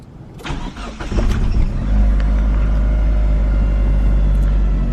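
A stock, fairly quiet Mitsubishi Evo engine turns over and settles into a steady, deep idle rumble, close and continuous after a brief rise at the start.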